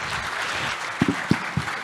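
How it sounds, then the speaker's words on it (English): Audience at an inaugural conference session applauding, a soft, even patter of clapping with a few louder low thuds near the end. "Can we have a big round of applause?"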